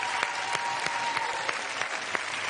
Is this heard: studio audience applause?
yes